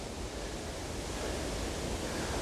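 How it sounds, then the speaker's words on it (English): Steady, dense rush of water cascading through a rocky crevasse in Black Rock Gorge, constant and fairly loud with no voices. "you can possibly hear the water cascading away through the crevasse there."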